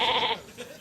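Flock of sheep in a windy valley, a short, close bleat standing out loud and clear, then fading away.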